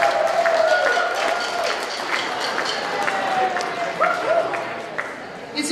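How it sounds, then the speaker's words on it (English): An audience claps for an organizing committee at a community event, moderate steady applause with some voices mixed in and tonal background sounds woven through. "Can we have a round of applause for them"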